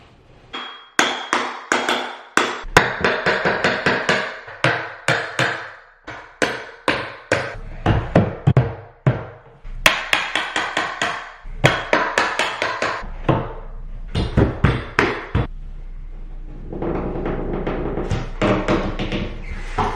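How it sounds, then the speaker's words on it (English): Bathroom baseboards come off the wall to sharp, close hammer blows. They fall in quick uneven bursts with brief pauses between, some ringing with a metallic clang against the wood. "I finally got all the baseboards removed from the floor."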